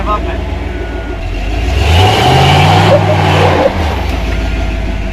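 A custom-built Jeep engine climbs a trail obstacle off-road. It idles, then swells into a loud, sustained rev for a couple of seconds before easing back, with voices talking around it.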